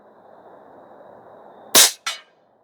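An Airmaks Krait L Pro air rifle fires a single AEA pellet at around 920 FPS: one sharp, loud crack followed by a shorter second report, after a quiet low hum.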